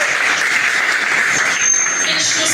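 Steady crowd applause fills the whole stretch, loud and continuous, with no pauses.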